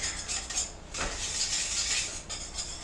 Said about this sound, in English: Alright, so I'm going to stir this for the 1 minute.